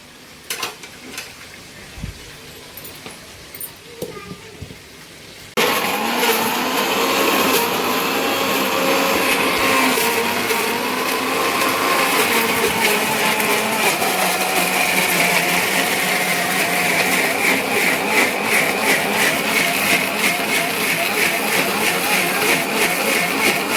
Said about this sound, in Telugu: ఇవన్నీ కలిపి మెత్తగా మిక్సీ కొట్టేసుకుందామండి